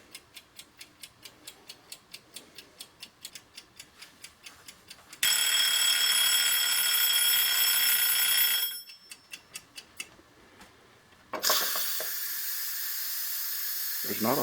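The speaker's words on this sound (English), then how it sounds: "There's not a whole lot of steam, but there's steam nonetheless." A steady hiss of escaping steam from a pressure canner comes in two sustained bursts, following a run of regular ticking clicks, with a brief pause between the bursts.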